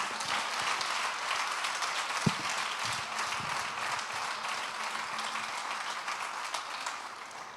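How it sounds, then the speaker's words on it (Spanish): Sustained crowd applause in a church Christmas service, a dense steady wash of many hands clapping throughout, with no voices standing out. "¿Por qué no le damos un aplauso a Jesús?"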